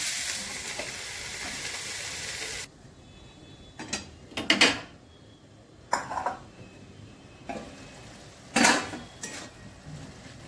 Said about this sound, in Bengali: ফ্লেমটা একটু কমিয়ে ঢাকা দিয়ে দিচ্ছি